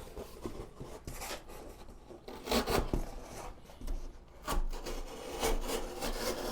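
Fintiso Apollo pocket knife with a 14C28N blade and G10 handle slicing through double-thick cardboard, a close, dry rasping scrape in several uneven strokes with no talking.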